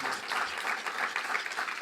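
Brief, dense applause from a lunch audience greets chef Édouard Chouteau of a Paris restaurant on the Place des Vosges, a continuous wash of many hands at moderate volume.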